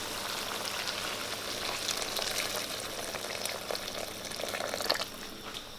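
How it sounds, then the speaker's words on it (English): Water poured into a pot of mutton paya and hot masala, a close, steady rushing hiss of liquid hitting the sizzling mixture, slightly swelling toward the end, with no voices. "With the paya, I want to add water."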